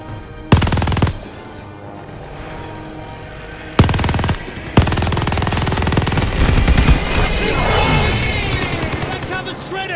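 Loud bursts of rapid machine-gun fire and gunshots in a video game aimed at an aircraft, coming in several volleys with short gaps and a sustained barrage near the end.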